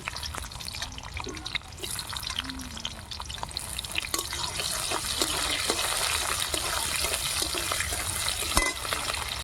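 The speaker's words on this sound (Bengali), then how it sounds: "ফোড়নে দেব জিরে, গোটা জিরে দিয়েছি, পেঁয়াজ কুচি" Whole cumin seeds and chopped onion fry in hot oil with a steady close sizzle that thickens and grows louder partway through, dotted with small pops and crackles.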